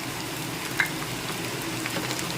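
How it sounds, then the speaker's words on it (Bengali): Grated coconut frying with banana flower in a pan as it is stirred, a soft continuous sizzle with a faint scrape of the spoon, close and fairly quiet. "এবার আরও একটু ভালো করে নেড়ে চেড়ে নিচ্ছি নারকোলটা"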